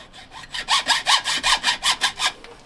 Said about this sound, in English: I'm going to use a hacksaw in this instance